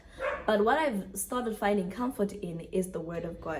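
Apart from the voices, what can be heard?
dog barking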